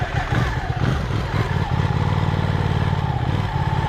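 A motorcycle engine runs loud and close, with a rough, pulsing mechanical rumble that surges and holds steady throughout.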